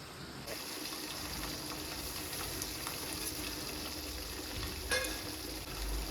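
Fenugreek and black cumin seeds fry in a pan with a quiet, steady sizzle. There is one brief clink of a utensil near the end and no talking.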